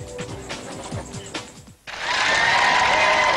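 Midway through, a bowling tournament crowd at the 2003 WIBC Queens breaks into loud, sustained applause and cheering, following a quieter stretch of mixed sounds.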